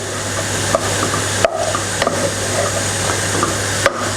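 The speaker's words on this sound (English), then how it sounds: "Give it a bit of a stir around." Egg fried rice stirred in a pan, a utensil scraping with a few distinct knocks over a steady low background, close and moderately loud, with no talking.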